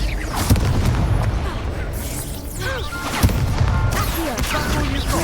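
A Confringo blasting spell in a wizard dueling video game, a booming crash with whooshing effects amid a busy, loud mix of other spell sounds and voices.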